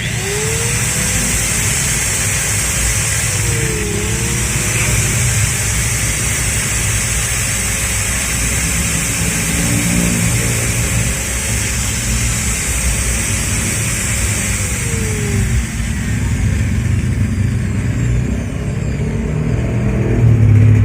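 A Bosch angle grinder, just repaired after its switch fault caused shorting, is switched on and runs steadily with a loud, continuous high whine and motor roar that does not let up.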